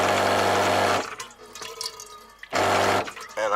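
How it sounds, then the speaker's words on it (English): Water gushing from an old faucet fed by an electric push-button pump, in two strong bursts of close, loud flow separated by a quieter pause with voices. "And I got water when I want it."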